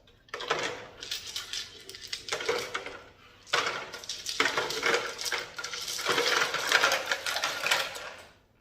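Wet jasper and agate rocks rattle and clatter inside a 12-pound Lortone tumbler barrel, coming in several bursts of dense, gritty clicking with brief pauses between them.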